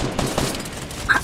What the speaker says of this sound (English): Two people just got shotgunned.